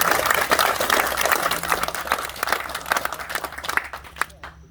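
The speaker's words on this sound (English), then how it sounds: "I'd like to give all of you a round of applause for coming out and showing respect." A crowd claps steadily at an outdoor veterans' memorial ceremony, a dense patter of many hands that thins and fades out near the end.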